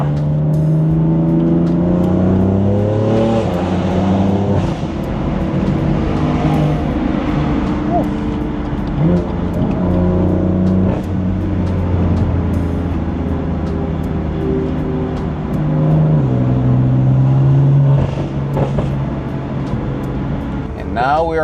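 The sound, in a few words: BMW F8x M3/M4 with DCT accelerating hard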